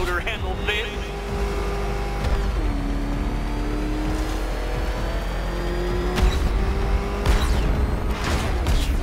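Batmobile engine from Batman: Arkham Knight, a sustained steady roar with a rising pitch partway through, running loud and continuous under game voice and music.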